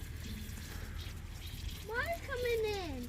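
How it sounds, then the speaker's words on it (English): Water rushes into a hose while a pipe line is being filled and pressurized with air still in it, a steady wash with a gurgling rise toward the end, under nearby talk. "Water coming in."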